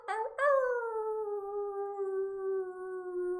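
A group of people imitating a wolf howl together at the end of a team meditation, a single long sustained howl with a rising start that slowly falls and fades, fairly quiet and clear.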